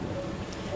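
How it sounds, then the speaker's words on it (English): Story sound effect of steady rain falling, a dense, even hiss of drops with a low rumble beneath, brief and fairly loud, with no voices. "Big fat raindrops came tumbling down from the sky like jumping beans."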